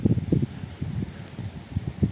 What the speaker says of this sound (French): Alors il y a un peu de vent.